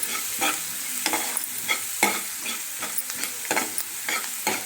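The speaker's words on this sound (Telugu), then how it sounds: "ఇది బాగా కలుపుకోండి." Brinjal and dry prawn curry sizzling in a pan while being stirred, with repeated scraping strokes of a spoon over a constant crisp frying hiss, close and alone.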